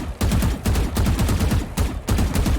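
Vandal rifle fire in the Valorant video game, loud bursts of rapid automatic shots separated by short pauses, close and unbroken by talk.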